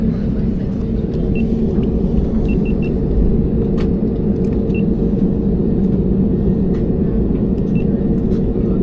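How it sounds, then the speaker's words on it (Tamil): Steady, loud engine roar and deep rumble of an airliner on a Delhi to Leh flight rolling down the runway for takeoff, heard from inside the cabin as one unbroken drone with no one speaking. "டேக் ஆஃப் ஆகுதுங்க நம்ம ஃப்ளைட், அடுத்த ஃப்ளைட்டு."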